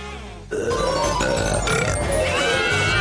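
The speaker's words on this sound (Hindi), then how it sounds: "और अब एक असली डकार।" A long, loud burp right after a Coke bottle is emptied, rising suddenly out of near quiet and rumbling on continuously for about two and a half seconds.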